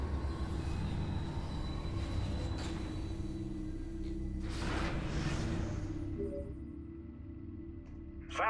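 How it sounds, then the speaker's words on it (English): A tram ride in the Metroid Prime 3 video game, with a steady rail rumble and rolling hum throughout, a brief whoosh midway, then thinning toward the end. "You gotta wait for me to finish my ride on the tram"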